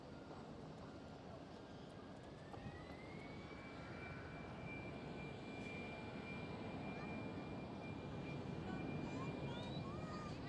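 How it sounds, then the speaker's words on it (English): An EasyJet Airbus A319 jet at Schiphol sends out a sustained engine roar that swells slowly, with a thin whine rising in pitch and then holding steady above the rumble. No one speaks. "There goes EasyJet A319."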